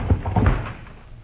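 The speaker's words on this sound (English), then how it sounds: "slid down a streak of lightning, and knocked on the door of the last house" Knocking on the door of a house, done as a radio drama sound effect from a 1949 broadcast: a quick cluster of muffled wooden thumps up close, with nothing else over it.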